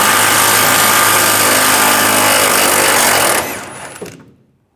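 A power tool with a 21mm socket spins out a rear bumper bolt on a 2007-2013 Chevrolet Silverado 1500, a loud continuous whir for over three seconds before it winds down and stops.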